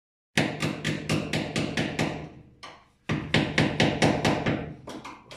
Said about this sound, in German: jetzt hole ich mir mal ein Stückchen Holz und einen Gummihammer und dann probiere ich mal, ob ich da irgendwas rausbiegen kann